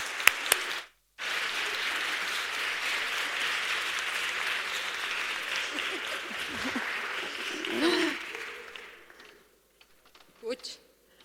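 Audience applause at a live event, a steady sustained clapping from a crowd lasting most of the clip after a brief gap, swelling slightly before fading out, with a few scattered claps at the end.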